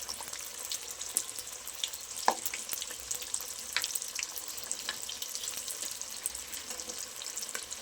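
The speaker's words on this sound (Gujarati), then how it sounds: "જેથી આપણા અંદરથી સરસ ફ્રાય થઈ જાય મોમોઝ" Momos deep-frying in hot oil over a low gas flame give a steady, dense sizzle with small crackles and pops, continuous throughout and fairly close.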